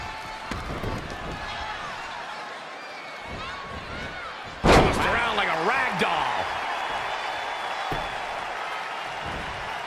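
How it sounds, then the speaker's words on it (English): A Tokyo arena crowd at a WWE wrestling event in Japan keeps up a steady roar, then surges into a loud slam-like burst midway with excited cheering and hollering after it, while a commentator talks over it. "just listen to this Tokyo crowd."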